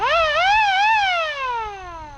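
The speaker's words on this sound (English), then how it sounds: "It also has a horn, and then the siren." The electronic toy siren on a 1961 Westinghouse electric vehicle cart wails up and down twice, then glides slowly downward as it winds off, loud and close.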